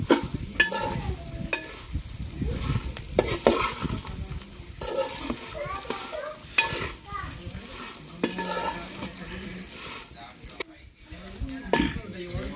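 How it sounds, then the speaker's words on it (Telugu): Bitter gourd fry being stirred in a pan with coconut chilli powder, repeated spatula scrapes and clinks over a low sizzle, close and uneven in rhythm, with a voice speaking through parts of it. "ఈ కొబ్బరి కారము మంచిగా ఫ్రై అవుతుందండి"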